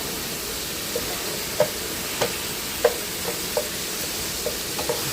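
Stuffed bell pepper filling mixed with a spatula in a pan over a steady sizzling hiss, with a string of light scraping taps spaced irregularly through the stretch; no one speaks.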